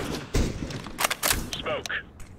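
A flashbang grenade is thrown in the game CS:GO, giving sharp broadband bangs and bursts in quick succession, with a voice talking over the game sound.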